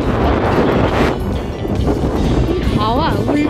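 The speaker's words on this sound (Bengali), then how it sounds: "দেখতেই পাচ্ছ ভীষণ হাওয়া যাচ্ছে" Strong wind buffeting the microphone at the Docklands waterfront, a loud continuous roaring rumble with gusty swells, and a faint voice briefly audible near the end.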